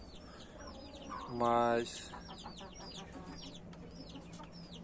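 A laying hen kept apart in a backyard aviary gives a short loud burst of clucking, with chirping birds all around and a brief word spoken.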